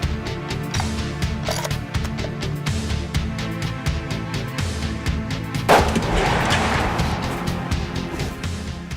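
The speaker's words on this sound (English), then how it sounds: "I decided to shoot for the logo in the middle of the whole lot of the target." A single sharp rifle shot cracks out about two-thirds of the way through, fired at a target while sighting in the rifle in the field, over a steady, busy background bed.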